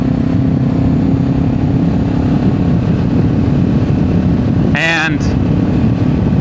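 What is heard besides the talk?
Kawasaki Z500 motorcycle riding at 40 mph in fourth gear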